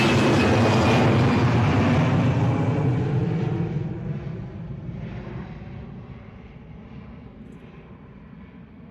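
A jet airliner climbs away overhead on a straight departure from Bristol Airport runway 09, its roar loud at first and then fading steadily into a distant rumble as it moves away.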